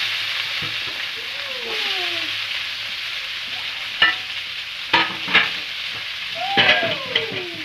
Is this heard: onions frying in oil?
yes